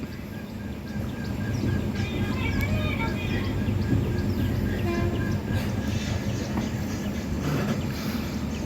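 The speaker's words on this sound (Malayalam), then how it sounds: "ഇവിടുന്ന് എടുത്തു ട്രെയിൻ." A long-distance express hauled by a WAP7 electric locomotive pulls away from a halt on an Indian line, giving a steady, continuous rumble and rattle of wheels and carriages heard from inside, with faint squeals over the drone.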